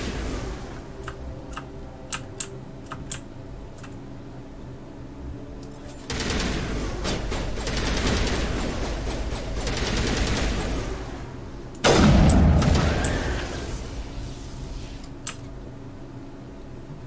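Gunfire in the Mass Effect video game: a few sharp single shots, then sustained bursts of rapid fire, and a heavy booming impact toward the end, with scattered ticks in between.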